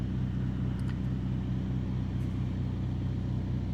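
Mini Cooper GP3 engine held against its soft rev limiter at about 3000 rpm, a steady, even low rumble with no rise or fall, heard from inside the car with no talk.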